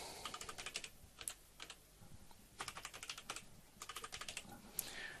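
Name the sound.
typing a root password on a computer keyboard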